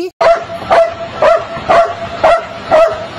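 A dog barks repeatedly outdoors, about five loud, close barks at an even, steady rhythm with short gaps between them.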